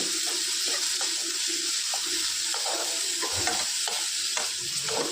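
Curry leaves and tomato frying in oil in a pan, a steady close sizzle with repeated stirring scrapes and soft clinks throughout, no voices.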